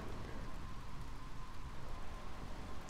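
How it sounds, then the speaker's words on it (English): Steady rain in the video game GTA3, a dense continuous hiss of rainfall on surfaces, loud and unbroken with no voices. "The rain makes it impossible to steer."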